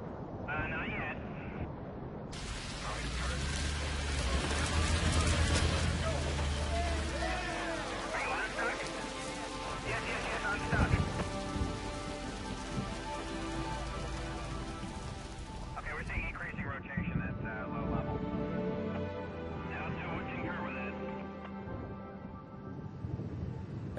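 Rain from an approaching storm pours down as a heavy, continuous hiss, with gusts of wind buffeting the microphone and muffled voices at times, and no distinct thunderclap.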